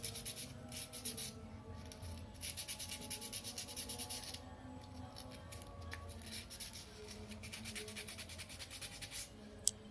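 Folded sandpaper rubs and scrapes around the edges of a gas stove burner ring, a steady close scratching in bursts with brief pauses, fairly quiet and without voices.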